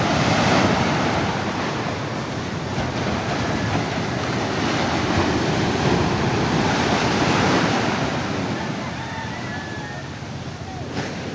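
Loud storm-driven surf churning and crashing continuously against a high shore, a heavy roar of ocean waves close by with wind, swelling and easing slightly.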